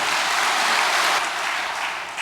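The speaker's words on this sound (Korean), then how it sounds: "우리 박수로 동의합시다." A seated audience at an indoor speech by the UPF world chairman breaks into warm, dense applause, a thick wash of many hands clapping steadily and then easing slightly toward the end, with no talking over it.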